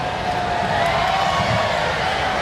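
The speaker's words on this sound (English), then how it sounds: "The crowd now engaging in the wave." A large basketball arena crowd of several thousand at a Big West championship game between Hawaii and Long Beach State, a steady loud roar of voices swelling and surging as fans do the wave, with no clear individual words.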